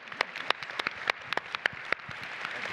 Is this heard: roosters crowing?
no